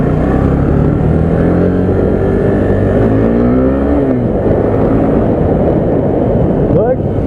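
Suzuki Gixxer SF 250 motorcycle accelerating on a test ride in Chennai, with a loud continuous engine drone that climbs in pitch through the gears and wind rush around it. A rider talks over the engine.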